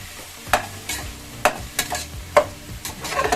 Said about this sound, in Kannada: ಈಗ ಈರುಳ್ಳಿ ಎಲ್ಲವೂ ಕೂಡ ಫ್ರೈ ಆಗುತ್ತೆ.